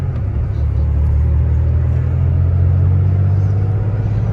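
A Porsche 911 driven through Manhattan streets gives a steady, loud low engine rumble and road drone that holds even throughout, with no speech over it.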